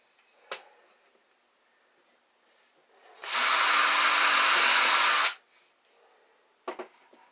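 A power drill whirs loudly for about two seconds as it bores through a scrap piece of wood, with a few sharp clicks and taps before and after.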